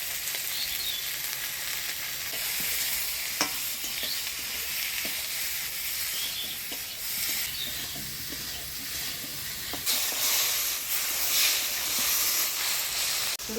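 Eggplant frying with turmeric and salt in a pan, a steady bright hiss and sizzle with occasional utensil scrapes as it is stirred, close and without talk.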